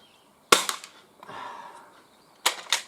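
An Umarex MP7 spring airsoft pistol shooting paper targets, a few sharp snapping shots close by with short quiet gaps between them.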